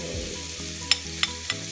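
Garlic sizzles steadily in hot oil in a pan for Thai chicken rice, with a continuous frying hiss and a few sharp clicks or taps of a utensil near the end.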